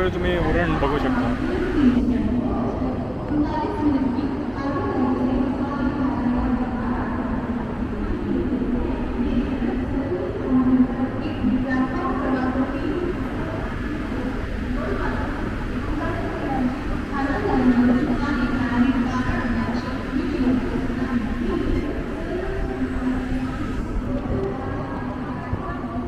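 A Uran-bound local train pulls out of CBD Belapur station, its steady low rumble and rolling wheel noise running continuously throughout, with people talking over it.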